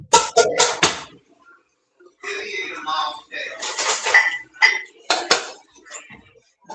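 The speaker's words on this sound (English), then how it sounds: "Oh, you gotta do dishes." Clattering dishes, pots and pans with clinking cutlery while someone does the washing up, in loud bursts close by, broken by brief pauses and mixed with talk.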